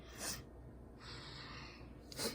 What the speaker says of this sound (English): sorry, I keep on sniffing